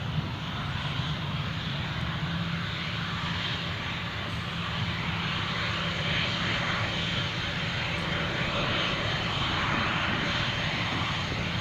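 An aircraft lands at Newcastle International Airport, its engines giving a constant, even roar with a distant rumbling texture that holds steady throughout without breaks.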